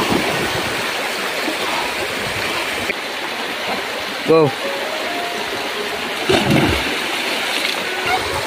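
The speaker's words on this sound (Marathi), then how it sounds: "ह्या खळखळ पाण्याचा आवाज" A village stream babbles and rushes steadily as it flows where a boy lies in the shallow current. The broad watery hiss runs continuously throughout, with occasional splashes and brief voices over it.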